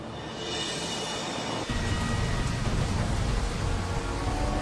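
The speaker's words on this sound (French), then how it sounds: "Sous la pluie de Colombie-Britannique" Heavy rain falls in British Columbia, a broad wash of hiss that thickens abruptly partway through and then holds loud and steady, with no talking.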